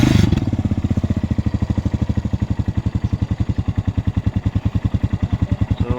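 Kawasaki Barako motorcycle engine, recently repaired after camshaft and rocker arm damage from an oil pipe fault, idling close by with a loud, even, steady thumping beat.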